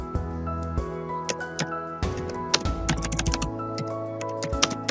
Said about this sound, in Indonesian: kita harus tekan tombol caps lock di keyboard